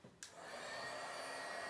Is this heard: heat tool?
yes